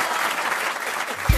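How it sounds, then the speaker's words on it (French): Studio audience applause on a French comedy radio show, a brief burst of steady clapping that is cut off by a low thump at the very end. "On peut quand même l'applaudir."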